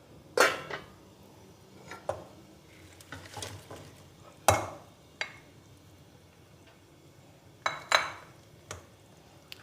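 Fried gram-flour pakoras are dropped into kadhi curry in a cooking pot, heard as a scattered series of soft plops and sharp metallic clinks with quiet pauses in between.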